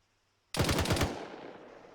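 Rapid automatic gunfire in the ARMA 3 video game: a short, loud burst of about six shots in quick succession, followed by a fading echo.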